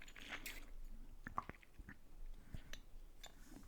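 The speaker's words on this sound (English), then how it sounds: "and another sip of water." A person takes a sip of water, with a few quiet, close mouth clicks and soft slurping noises against a faint background hush.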